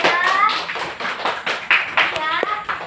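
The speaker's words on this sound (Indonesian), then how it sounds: "Oke, kasih tepuk tangan kelompok 3." Classroom applause for a student group, a handful of hands clapping in quick uneven bursts, close and fairly loud with a voice briefly audible.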